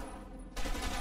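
A brief, faint burst of rapid gunfire comes from the Batman: Arkham Asylum video game, with the shots rising sharply halfway through the moment.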